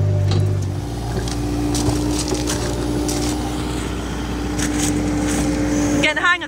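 An excavator fitted with a rototilt attachment runs and works, its engine humming steadily with hydraulic whine and intermittent clanks, close and fairly loud.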